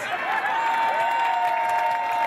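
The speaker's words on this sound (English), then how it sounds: "Big round of applause for Nicole from Delafield" Dense, sustained applause from a large crowd at an outdoor Tea Party rally in Madison, Wisconsin, a steady wash of clapping with a few cheers running unbroken from start to end.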